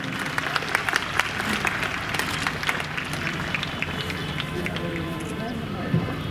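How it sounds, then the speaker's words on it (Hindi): Dense, steady audience applause fills a ceremony hall in Gorakhpur for a student receiving a second medal after topping the BA, mixed with crowd murmur and shuffling throughout. "इनके लिए बड़ी जोरदार ताली बजाएं"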